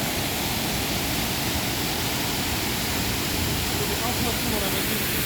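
A small waterfall on a little river pours in a dense, steady rush of white water that fills the whole stretch, loud and close, with no break.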